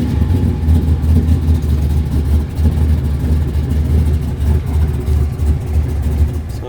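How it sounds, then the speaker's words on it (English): A 1987 Pontiac Firebird pro street car with an LSX 454 engine, Dart block and LS3 heads idles loud and close, a deep, steady rumble with a lumpy pulse throughout. "Turn on the ignition. Fuel pumps come on and start it up."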